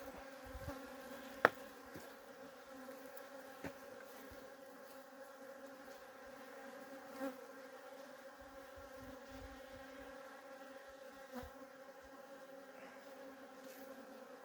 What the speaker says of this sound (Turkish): Arı geziyor dışarıda